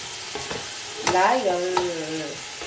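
Chopped onions, leeks and garlic fry in a pan for a mushroom sauce, with soft sizzling and stirring scrapes and a brief squeaky tonal whine from the utensil midway.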